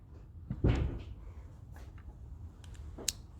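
A Lego puzzle box's lock spun to release its drawer: a few sharp plastic clicks and a louder clack as the drawer slides out, followed by smaller taps, close and quiet with no talk.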